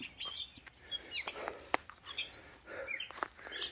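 Birds chirp outdoors in a mix of scattered tweets and short calls, some near and some farther off, with a few clicks and light rustling in between.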